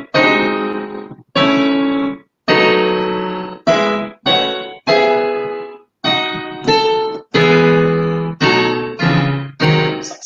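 Piano notes and chords struck in a steady, even rhythm with flat, uniform loudness, each held briefly before the next, sounding stiff and mechanical.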